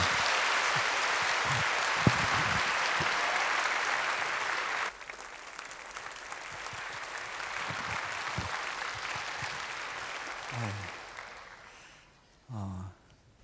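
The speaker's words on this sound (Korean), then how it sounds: "우리 크게 박수 해주실까요?" Sustained applause from a large church congregation fills the room, fading after several seconds, with a voice speaking briefly near the end.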